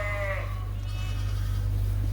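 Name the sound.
sheep and lambs bleating in a barn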